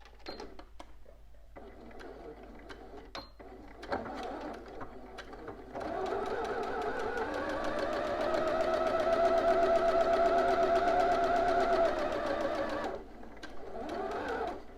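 A home sewing machine back stitches a bodice seam, first in short clicks and starts, then in a steady whirring run of several seconds before stopping.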